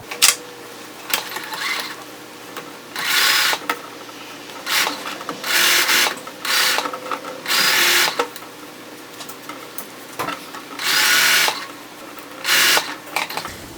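A sewing machine stitches a shirt collar seam in several short, loud runs of fast whirring needle strokes, separated by pauses filled with fabric handling and faint clicks.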